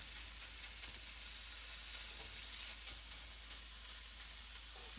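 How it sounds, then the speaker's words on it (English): Bacon frying in a pan gives a faint, steady, even sizzle with no breaks and no voices over a low constant hum. "So I'm gonna cook my bacon"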